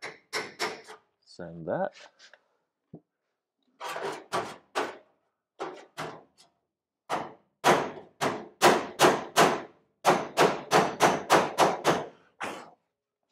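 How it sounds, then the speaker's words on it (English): Hammering with a straight-edge hammer on the metal body panel of a 1968 custom VW, a run of sharp taps in quick rhythmic bursts separated by pauses, with a brief spoken remark near the start. "Bit of this straight edge hammer thing."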